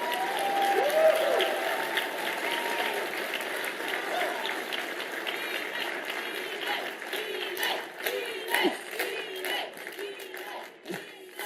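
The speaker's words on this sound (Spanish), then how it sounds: "Que un público trampista aplauda un discurso pro libre comercio me parece un avance" A political rally crowd applauds a pro free trade speech with dense, sustained clapping and some cheering that slowly thins toward the end, heard from within the hall.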